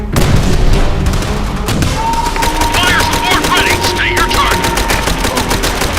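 Gunfire from the World War II shooter Call of Duty: World at War, with rapid bursts of shots cracking steadily throughout, plus a sustained whining tone midway and a voice talking over the action.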